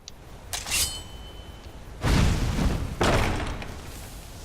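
A spell cast on a locked door in the video game Skyrim gives a bright chiming shimmer, then two loud, heavy booming thuds about a second apart, each fading slowly.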